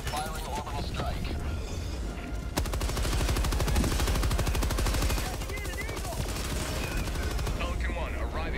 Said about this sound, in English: Firing orbital strike.